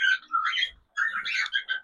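Pet bird chicks give bright, high chirps while they are fed. The calls come in two close, busy bursts with a short gap between them, and no one speaks.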